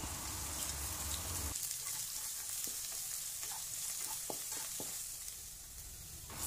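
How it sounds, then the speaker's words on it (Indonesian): Onions and garlic sizzle steadily in hot oil over medium heat, a constant crackling hiss that shifts briefly as they are stirred, with faint tapping of a utensil. "Kemudian kita tumis bawang-bawangan menggunakan minyak secukupnya."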